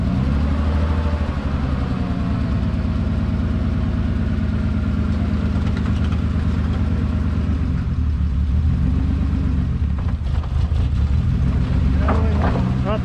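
A barn-find BMW M3 E36 rumbles at low revs while inching up onto a trailer, a steady close engine drone with a brief dip, with people talking nearby.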